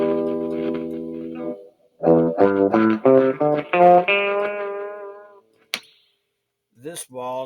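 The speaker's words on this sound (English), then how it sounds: "This wall's got a little bit of distortion in it." An electric guitar played through a distortion pedal board and amp rings out in sustained chords and a run of picked notes, loud and close, with brief gaps and a couple of sharp clicks.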